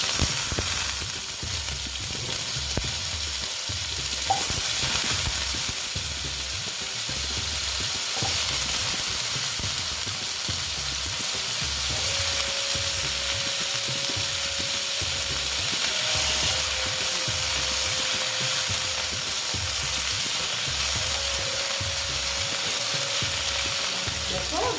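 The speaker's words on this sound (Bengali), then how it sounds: "ভালো মতন আমি আলুগুলো ভেজে নিচ্ছি" Continuous loud sizzling of potatoes frying in oil with occasional stirring scrapes, close and steady throughout, no voices.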